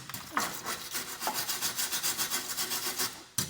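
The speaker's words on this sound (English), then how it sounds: "I'm going to get in here and I'm going to get the wire brush" A wire brush scrubs flaky rust off the subframe of a Vauxhall Corsa C, giving a close, harsh rhythmic rasping in quick back-and-forth strokes, followed by a sharp knock near the end.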